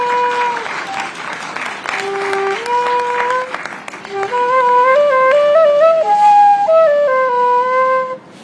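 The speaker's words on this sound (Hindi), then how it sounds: "जोरदार तालियां" Audience applause at a televised interview event, steady close clapping throughout that runs beneath a bright whistled or flute-like melody of stepped notes, which grows louder toward the end.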